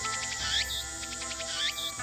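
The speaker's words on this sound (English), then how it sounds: "I can hear the chirping of cicadas from the few trees growing here" Cicadas chirp from a few trees by a shrine in an anime scene, a steady buzzing drone with repeated pulsing trills and two brighter rising calls over a continuous background.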